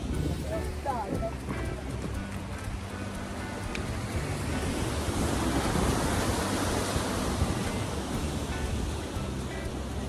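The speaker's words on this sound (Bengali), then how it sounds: "এই দেখো, ঢেউ দেখো।" Sea waves rolling in at quiet Tajpur beach, a steady, broad roar of surf with wind rushing across the microphone, continuous and fairly loud throughout with no distinct breaks.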